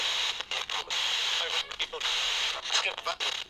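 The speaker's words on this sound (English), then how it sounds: "plug this into a spirit box enhancer and get rid of some of that white noise" Harsh white noise hisses continuously from a Radio Shack 12-470 radio used as a spirit box, chopped by brief dropouts and stuttering gaps as the signal sweeps, loud and close.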